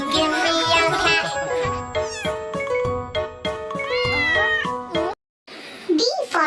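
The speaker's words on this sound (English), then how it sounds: "Cat meow, ginger cat meow." A ginger cat meows repeatedly over a children's nursery-rhyme song, the calls loud and near, broken by a brief silence before a final rising meow.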